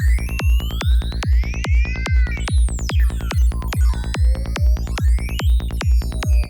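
A loud Vital software synthesizer pulses in a steady rhythm of punchy bass hits, with bright tones sweeping and squeezing up and down in pitch above them.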